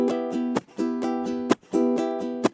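Ukulele strums with a sharp percussive chuck on the last beat of each bar, repeated in a steady rhythm, close and alone.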